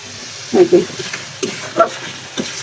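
Dried kechki fish sautés with garlic in a pan under a soft, steady sizzle, with a few scattered scrapes and stirring knocks and faint voices in the background.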